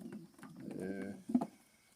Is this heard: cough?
no